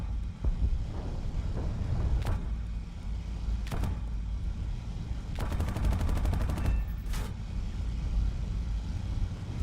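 Gunfire in the War Thunder game: a few sharp single shots and one rapid automatic burst, loud and close, over a constant low engine drone.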